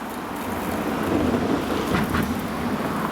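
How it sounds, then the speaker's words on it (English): Simulated rain poured over golf gloves for a product test: steady, loud close hiss of falling water with a dense patter that rises slightly midway and continues without a break, no voices. "What it means is I have to bring the rain to you."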